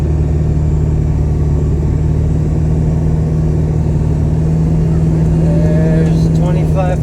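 A Ford 7.3 diesel truck engine fitted with a KC300 turbo holds a steady 2,500 RPM while driving, a loud continuous droning rumble with a strong even tone, and a voice joins near the end.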